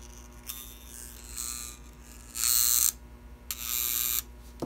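A prewar Gilbert HO Hudson model train motor runs on test with its wires due for replacement. It gives a buzzing electric whir that starts and stops in bursts, loudest in two sustained runs, over a low background hum.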